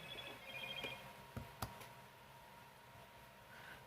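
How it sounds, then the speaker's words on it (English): A phone chimes with a text message alert in a quiet room: a short high electronic tone followed by a couple of crisp clicks, then a faint tone near the end, fairly soft overall. "I got a text message."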